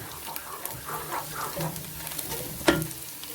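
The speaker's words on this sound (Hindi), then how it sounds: "तो प्याज को तकरीबन जो है लाइट ब्राउन कर लेते हैं।" Soft sizzling of onions frying to light brown in a pan, with occasional stirring scrapes and a sharper clink near the end.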